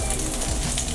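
Zucchini sautéing in olive oil in a preheated pan gives a steady, close, dense sizzle that fills the whole moment with no talk over it.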